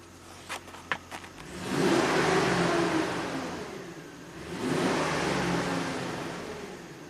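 A 2009 Chevy 3500HD truck with a 421k-mile engine that is running rich is started and revved, with a few clicks and then two swelling, rumbling engine surges that rise and fall, heard fairly close.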